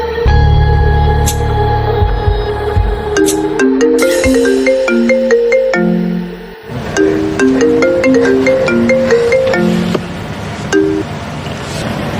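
A phone ringtone plays loud and close, a bright electronic melody repeating its short phrase of tones over and over without any talk.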